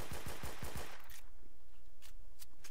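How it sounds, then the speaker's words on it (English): Rapid automatic gunfire in the Roblox shooter Phantom Forces, a loud burst of about five close shots followed by quieter distant shots over steady game ambience. "there's somebody shooting at me"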